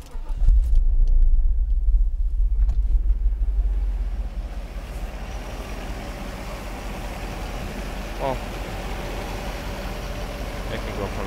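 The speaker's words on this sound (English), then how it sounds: "Now I'm going to start the car." A Mercedes 500SL engine during a throttle actuator test rumbles loudly and low at first, then settles into a steadier, quieter idle hum that continues to the end.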